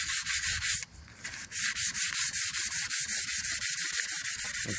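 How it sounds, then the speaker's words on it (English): Sandpaper rubs back and forth on chrome metal to give it a brushed finish, a loud rhythmic scratching in quick regular strokes, with one brief pause near the start. "Now you see how I'm sanding? I'm not sanding with the grain."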